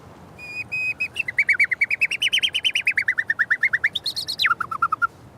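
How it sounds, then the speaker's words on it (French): A nightingale sings a loud, close phrase outdoors in the Baie de Somme, opening with clear whistled notes, then a fast run of rapid repeated trills that rise and fall before ending on a few lower chirps. "Le rossignol qui trouve une femelle, il arrête de chanter."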